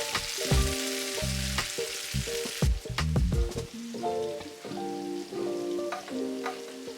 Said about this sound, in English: After your garlic is done cooking and has become fragrant and browned nicely, you can add your white wine.